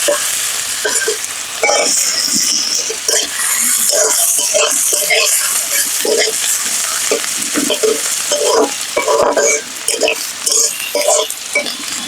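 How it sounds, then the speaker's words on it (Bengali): Onions frying in oil left over from frying live koi fish, for a cauliflower curry: a loud, dense, continuous sizzle close up, broken by stirring scrapes and light clinks, with some talk in the background. "মাছ ভাজার তেলে আমি পেঁয়াজগুলো দিয়ে দেবো হালকা তেল দিয়েছি"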